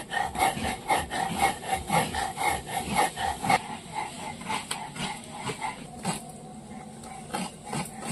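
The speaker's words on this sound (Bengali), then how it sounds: "পাটিসাপটা বানানোর জন্য আমি সুজি শিলে গুঁড়ো করে দেবো।" Semolina is ground on a shil grinding stone with rhythmic, evenly spaced scraping strokes that are moderately loud and close, then slow and soften toward the end.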